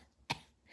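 A single short, sharp cough from a person close by, rising abruptly out of near-quiet and fading quickly, with no talking around it.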